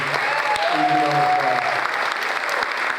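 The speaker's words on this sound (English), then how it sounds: "he deserves a round of applause" Applause at a Nutley school board meeting honoring Mike DiBiano, newly hired as a coach, a steady wash of clapping from the audience filling about three seconds, with a voice briefly audible over the start.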